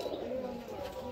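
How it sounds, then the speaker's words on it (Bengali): A chini pigeon gives a brief, soft, low coo, faint and close, with a muffled voice in the background. "চিনি পায়রাটা দেখে নাও তোমরা একবার"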